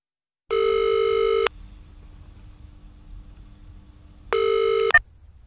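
A telephone call to a phone service: two loud, steady ringback tones about a second long, separated by a quiet gap with faint line hiss, then a short click as the line connects.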